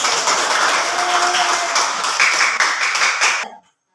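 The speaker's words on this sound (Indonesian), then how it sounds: "Tepuk tangan dulu" Children in a classroom clap their hands together in a dense, steady burst for about three and a half seconds, loud and close, before stopping abruptly.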